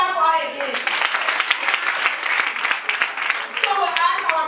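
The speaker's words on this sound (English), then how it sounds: "Let's clap for her again." An audience at an International Day of the Girl Child event in rural Montserrado claps for a young girl, a lively burst of applause between stretches of talk at the start and end.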